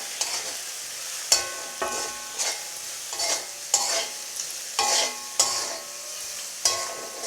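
Spices with salt and turmeric fry in a pan over onion and garlic for a samosa filling, a steady sizzle broken by regular spatula strokes and scrapes roughly every half second to second, close and alone without talk.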